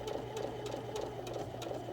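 A sewing machine stitches strip-pieced quilt diamonds toward a sewing line, giving a steady low motor hum with a regular ticking needle rhythm, close and fairly quiet.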